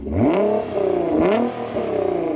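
A 650hp Nissan GT-R with a 4-inch titanium exhaust revs hard in two or three sharp bursts, pitch sweeping up and falling back between throttle blips, loud and close, with one word spoken.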